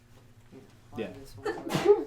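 A sneeze bursts out in a meeting room, rising sharply near the end of a short stretch of people talking nearby at a public meeting.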